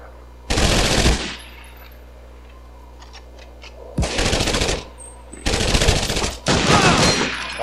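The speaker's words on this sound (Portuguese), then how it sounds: "eles estão atirando no cara" Gunfire from the PS2 game Medal of Honor Vanguard comes as loud automatic bursts: one near 0.5–1.2 s, then longer sustained volleys from about 4 s on, with quiet game ambience in the gaps.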